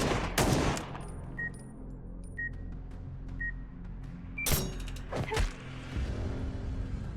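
Pistol shots fired in a video game, a few sharp loud cracks spaced irregularly over a mechanical hum, with faint clicks and creaks between them.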